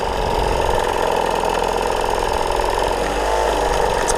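A poorly tuned motorcycle idles roughly after being kickstarted, a steady loud mechanical chug with uneven ticking and rattling throughout, close by and with no talking.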